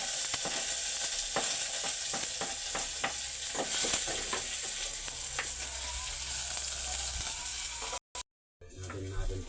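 Sliced onion tossed into a pan of browned garlic, frying with a steady loud sizzle as a ladle stirs and scrapes with quick clicking strokes, then a brief cut near the end.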